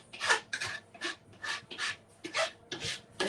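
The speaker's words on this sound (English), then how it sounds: "This is a bench scraper." A bench scraper rasps across a cutting board in about nine quick, close strokes, each a short scratchy swipe with brief gaps between.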